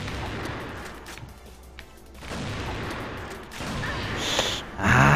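Gunfire in the game CrossFire AL 2.0 during sniper play, several bursts of shots and impacts over a noisy, busy mix, with a louder crack near the end.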